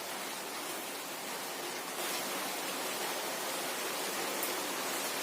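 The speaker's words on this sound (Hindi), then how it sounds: "थोड़ी बारिश होने लगा है अभी" Light rain falls as a steady, soft hiss of dense patter, faint and uniform throughout, with no voices.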